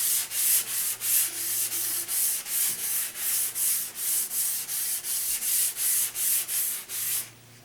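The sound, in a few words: sanding primer off a Rickenbacker 325 guitar body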